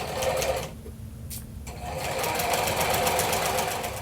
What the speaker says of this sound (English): I'll sew with a tiny, tiny seam right along the edge